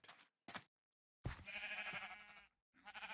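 Sheep bleat in a hardcore survival video game: two short clipped bleats, then a longer wavering bleat and another starting at the end, close and fairly clear over quiet.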